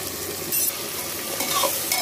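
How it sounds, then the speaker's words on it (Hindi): Onions salted and frying in a pan for mutton biryani give a dense, loud sizzle with a couple of brief scraping stirs, close and continuous, no voices. "एक मिनट इसको भून लें"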